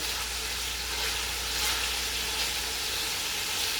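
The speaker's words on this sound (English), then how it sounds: "I want to put this piece in the oil" A seasoned pork piece for Jamaican brown stew pork fries in hot oil, giving a loud, steady, close sizzle with no other sounds.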